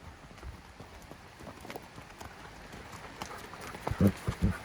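Hooves clip-clop on a trail with soft irregular thuds, growing louder near the end, over faint outdoor background.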